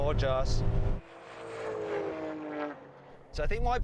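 A BMW E39 M5 engine rises steadily in pitch as it accelerates down a half-mile drag race, with voices talking over the start and end.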